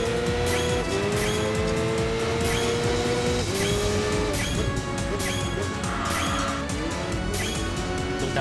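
A race car in Enthusia: Professional Racing loses control, its engine revving and shifting loudly as tires squeal and skid, with repeated sharp crashes and thuds over the steady engine drone.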